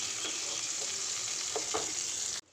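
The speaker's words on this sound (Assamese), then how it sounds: "এতিয়া পিঁয়াজখিনি দি অকণমান লৰাই দিম" Onions frying in oil in a wok, a steady hiss with a couple of soft scraping stirs before it cuts off abruptly.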